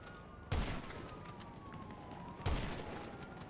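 Two sharp, loud gunshot bursts in GTA Online, about two seconds apart, stand out over a steady game background hum.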